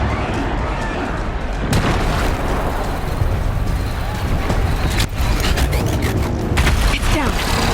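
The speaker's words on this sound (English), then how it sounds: "One more pillar and that platform will come down" A platform collapsing in the game Horizon Zero Dawn: heavy rumbling booms and crashing debris, loud and sustained with a sharp impact near the start and more crashes later.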